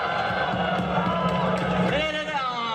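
Crowd at a live rap battle event, Sinio versus Shehyee, cheering and shouting loudly and continuously, a dense roar of many voices with whoops, a commentator's voice mixed in.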